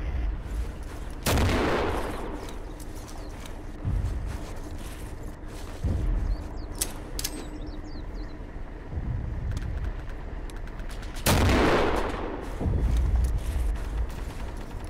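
A tank fires in Darkest Hour with two huge booming cannon blasts several seconds apart, each ringing out loud and close, while duller thuds and scattered distant gunfire sound in between.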